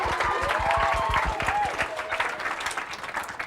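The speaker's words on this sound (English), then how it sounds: "we want to give a huge round of applause to all of our judges and everyone else that's judged this morning" Audience applause for the judges at a 2016 poetry slam, dense continuous clapping from a crowd that holds steady for a few seconds with a faint voice or tone drifting over it.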